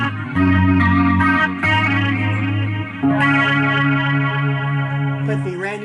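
Sustained electric guitar chords in a live Starwood 1979 tone, played through a BOSS eBand JS, ring out with a wet reverb tail, loud and continuous, with a brief pause and restrike around the middle.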